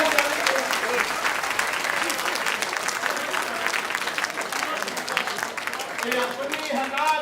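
An audience at a live poetry performance bursts into sustained applause, dense crowd clapping that fills the whole stretch at a steady moderate level and swells slightly toward the end.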